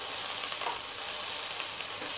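Steady, even sizzling of margarine melting in a hot pan, a continuous bright crackle without any voices.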